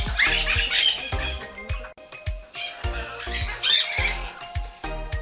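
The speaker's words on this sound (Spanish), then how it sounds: "También tenemos casos de loras, ¿verdad? Y pericos que son los más comunes." Parrots and parakeets squawk harshly at an animal refuge for wild birds. The calls come loud and close in repeated bursts, with sharp clicks and clatter between them.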